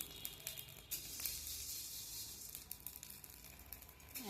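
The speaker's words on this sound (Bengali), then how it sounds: "এরকম করে ভাজতে হবে, একটু করে নাড়তে হবে আর একটু থেমে যেতে হবে" Rice grains dry-roast in a pan for masala chatu, making a faint, steady sizzling crackle with small scattered pops and light stirring scrapes.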